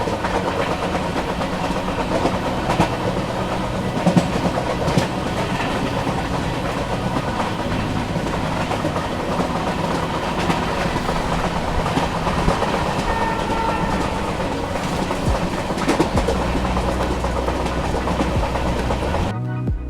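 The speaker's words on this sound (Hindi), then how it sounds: "फिलहाल हमारी ट्रेन चल रही है क्यानकुलम जंक्शन रेलवे स्टेशन से।" Island Express passenger train running through Kerala, a steady loud rumble of wheels and carriages on the rails with rhythmic clickety-clack throughout, continuous and close from inside the moving train.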